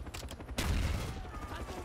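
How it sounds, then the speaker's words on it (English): Gunfire in the Wii version of Call of Duty: Black Ops, a sudden loud volley breaking in after a brief lull and decaying under a busy battlefield mix, with some voice. "Oh shit, I'm being shot at."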